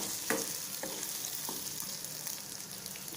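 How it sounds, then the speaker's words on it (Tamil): Coriander seeds, cumin and black pepper fry in hot oil in a pan for a chickpea sundal kulambu, giving a steady close sizzle broken by a few soft stirring scrapes, with no talking. "இதை வந்து லைட்டாக இந்த எண்ணெயில் பொரியிற மாதிரி வறுத்துக்கலாம்"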